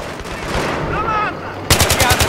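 Video game gunfire, said to come from a sniper, sounds as a loud, close burst of rapid repeated shots in the final second, after a busy stretch of game noise.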